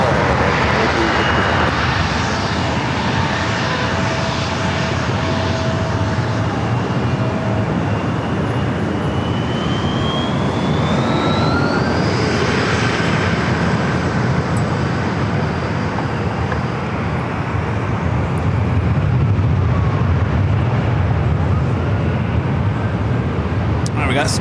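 A British Airways jet passes near San Diego airport, its engine roar steady and loud for the whole stretch over a dense rumble, with a rising whine partway through.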